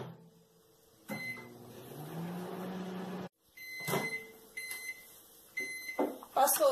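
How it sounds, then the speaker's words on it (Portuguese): A microwave oven heating chocolate hums steadily, with high beeps, clicks and a door or cupboard sound breaking through, and a person talking intermittently nearby. "O micro-ondas sempre esquenta mais do meio pra fora"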